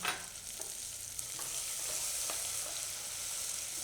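Fresh green turmeric sizzles in hot oil as it is stirred for a Gujarati bottle gourd dish, a faint, continuous frying hiss broken by a few soft scraping strokes, with no voices.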